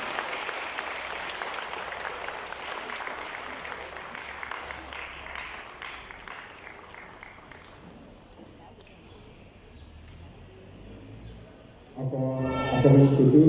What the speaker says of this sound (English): Sous vos applaudissements, merci beaucoup.